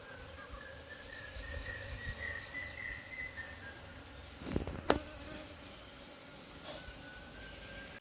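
Honey bees buzz steadily around a hive that was built inside a lid, a continuous droning hum with one sharp knock partway through and no voices.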